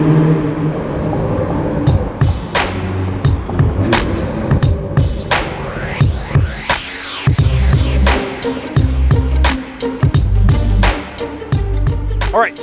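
A Toyota Supra drives past or revs with a loud turbo, throaty engine surges broken by sharp pops and whooshes, close and intense, with voices talking in between.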